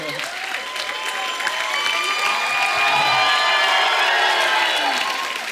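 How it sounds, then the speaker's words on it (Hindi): Studio audience on a comedy talk show applauds and cheers for the Deol family, a steady dense wash of clapping with whoops and crowd voices over much of the clip, mixed with music. "जोरदार तालियां हो जाएं।"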